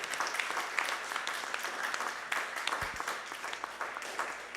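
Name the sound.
audience applause for a band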